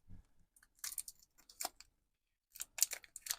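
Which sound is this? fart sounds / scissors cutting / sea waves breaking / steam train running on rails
scissors cutting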